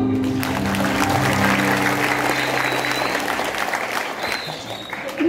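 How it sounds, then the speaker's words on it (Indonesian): A crowd at a madrasah istighosah gathering breaks into applause, a loud sustained roar of clapping lasting several seconds over a low hum, tapering slightly near the end. "Tepuk tangan"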